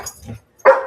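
A dog lets out one sharp, loud bark near the end, following softer rustling and murmured sounds.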